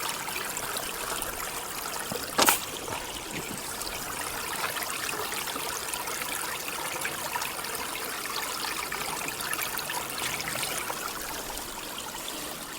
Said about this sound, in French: Donc on la remplit dans le courant.